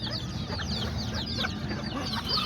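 Chickens clucking continuously in a backyard flock, several birds making rapid overlapping clucks and short squawks at close range, with no talking.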